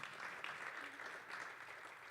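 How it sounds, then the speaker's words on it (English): Audience applause at a church service, a soft, distant wash of clapping that holds steady for a couple of seconds. "Round of applause"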